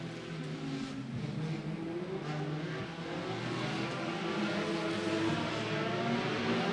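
Roadster race cars roar around the dirt oval at Potomac Speedway, a steady, dense engine drone that swells slightly as the pack comes around, with no voices over it.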